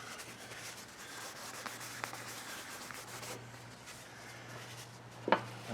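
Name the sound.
wiping an RV awning clean with rubbing alcohol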